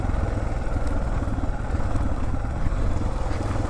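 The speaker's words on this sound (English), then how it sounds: "and controlling the motorcycle." A motorcycle rides downhill on a rocky trail on Mt. Carmel, its engine a steady mid-pitched drone with clattering from the rough ground, close and continuous throughout.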